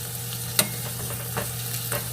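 Spring rolls sizzle in a frying pan, a steady close crackle of hot oil with a few sharper spatters and clicks as they are flipped, no voices.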